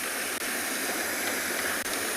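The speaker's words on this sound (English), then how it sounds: "Look at this, it's Chitwa waterfall" Water at Chitwa waterfall in a South African safari reserve rushes as a steady, even hiss, with nothing else standing out.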